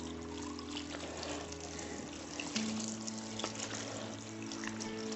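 Water pours steadily into a bowl to make a salt brine for kimchi, a continuous close splashing stream that runs for several seconds with no talk.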